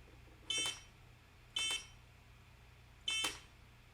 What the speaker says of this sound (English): So if I pick this up and shake it, I get a beep.